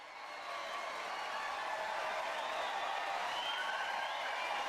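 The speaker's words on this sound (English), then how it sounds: "a huge cheer akin to the rumbling of the very earth itself came from the people below" In the visual novel game Chaos;Head NOAH, a large crowd cheers from below. The roar is a dense, sustained wash of many voices that rises quickly and holds steady, with no one speaking over it.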